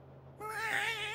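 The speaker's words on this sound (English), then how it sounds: "The cat got away." Cat meowing in the South Park: The Fractured But Whole video game; a single drawn-out, wavering meow begins partway in and rings loud and close over a faint steady hum.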